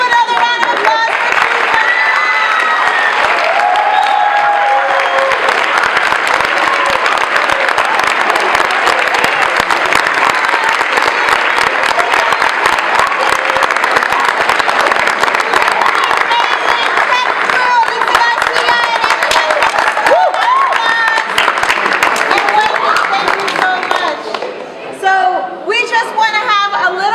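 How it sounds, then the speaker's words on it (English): A school auditorium audience claps and cheers for performers, a dense, loud, sustained wave of applause with shouts and chatter mixed in, tapering off near the end. "Let's give another round of applause for"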